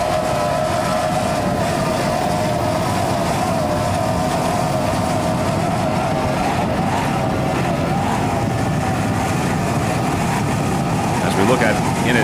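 Racing powerboats driven by 250 horsepower Mercury outboard engines in a grand prix race, producing a steady, continuous engine roar that runs unbroken throughout, with voices audible over it.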